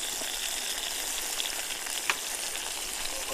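Steady sizzling of meat frying in a pan over a gas burner outdoors in strong wind, a constant hiss with a few faint pops, close and continuous with no talking.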